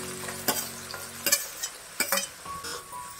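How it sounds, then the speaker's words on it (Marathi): Chopped onions for a raw jackfruit sabji sizzle in a pan, with a soft frying hiss broken by several sharp scrapes and clinks of a spoon stirring, close and fairly quiet. "कांदा चांगला परतून घ्यायचा आहे."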